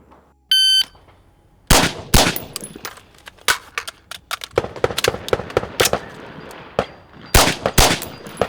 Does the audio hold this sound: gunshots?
yes